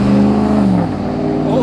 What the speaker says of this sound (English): Big dually pickup truck with the loud muffler and it rah.